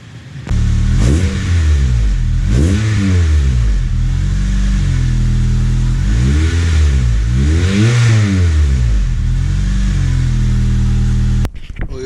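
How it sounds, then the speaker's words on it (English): A Honda Integra fitted with a new exhaust revs hard several times in a row, each blip rising and falling in a close, loud, rumbling burst before cutting off abruptly. "new exhaust sounds mint"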